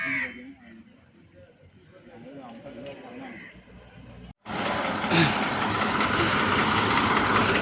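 A Konkan Railway train runs loud and close, its steady rumble and rattle rising sharply after a brief cut, following a stretch of quieter travel noise with a voice talking.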